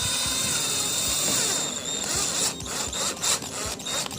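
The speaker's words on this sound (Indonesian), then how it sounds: "Kita baut di bagian kanan dan kiri." Power drill driving screws into PVC ceiling boards, a close, loud whirring run with rattling and knocking, followed by shorter bursts and handling clicks.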